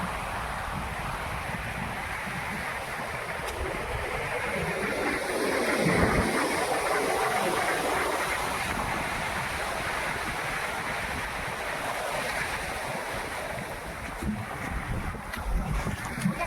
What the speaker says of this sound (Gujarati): જો આ પોરબંદરનો દરિયો છે, જો એની લહેરું જો.